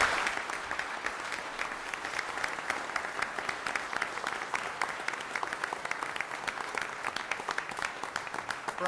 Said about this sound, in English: How about another nice round of applause for all of our good police officers?